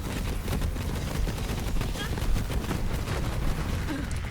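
Gunfire in the video game Borderlands 3, rapid repeated shots and bursts running continuously at moderate level, with a voice talking underneath.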